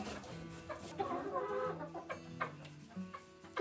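Several chickens cluck and murmur in short, overlapping bursts at close range, with a busy, uneven rhythm and faint background noise.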